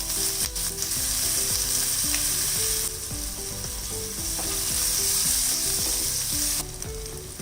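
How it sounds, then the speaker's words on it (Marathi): Mustard seeds, cumin, asafoetida and green chili fry in hot oil for a Mumbai street-style veg frankie, giving a loud, continuous sizzle over a rhythmic, ratcheting mechanical whir that pauses briefly and returns. "इथे मी तेल तापत ठेवलंय. तर थोडीशी मोहरी घालूया, थोडं जिरं घालायचंय, हिंग घालूया पाव चमचा, हिरवी मिरची घालायची"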